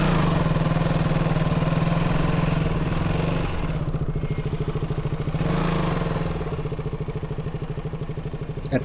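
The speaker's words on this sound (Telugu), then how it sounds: "చాలా కష్టం ఈ ఇసుకలో మీరు ఆ బైక్ తీసుకొని వెళ్ళాలంటే." A motorcycle engine labours while riding through loose beach sand at Seethapalem beach near Vizag, a loud, close, steady throbbing drone that shifts pitch as the throttle changes, with no talk.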